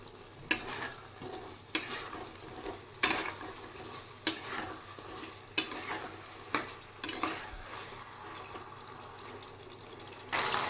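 Fried gathi kochu (taro) being added to a pan and stirred while cooking arhar dal, with a soft ongoing sizzle broken by repeated sharp scraping strokes of a spatula against the pan.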